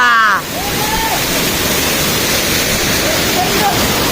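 A waterfall roars as a dense, steady wash of rushing water close by, with a brief voice at the very start and faint whistle-like tones over the noise.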